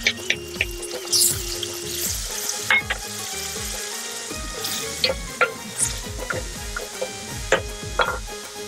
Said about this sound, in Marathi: हा जो हिरवा वाटण आहे तो ह्याच्यात टाकूया आपण